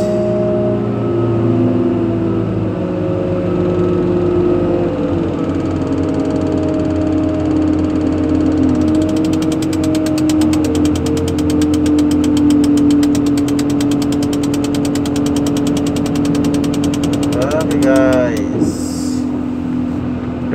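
Terex 160 crane's diesel engine runs steadily with a low rumble while hoisting a load down, rising into a rattling, harsher drone midway; constant and fairly loud, with a brief squeal near the end.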